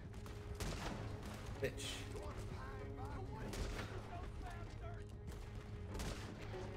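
Gunfire during a coach robbery in Red Dead Redemption 2, with several sharp shots and bursts scattered over a busy game soundscape, fairly quiet overall, while voices shout and talk throughout.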